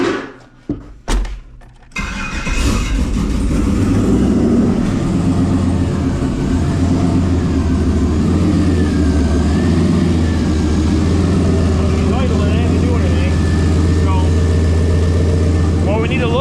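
Turbocharged Gen 5 6.2L engine in an S10 truck cranking with a few short bursts, then catching and settling into a loud, steady, rumbling idle with slight fluctuations, up close, with people talking over it.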